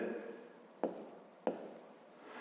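A pen scratches across paper during a fifth-grade geometry exercise, with two short, sharp strokes standing out over a quiet, faint background rustle.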